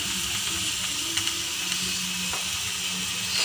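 Masala with salt and turmeric sizzles steadily in a hot pan for chicken biryani, a bright continuous frying hiss with occasional stirring scrapes close by.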